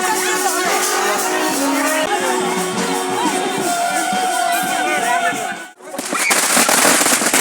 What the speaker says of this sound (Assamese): ইয়াৰ ফটকা মাৰি আছে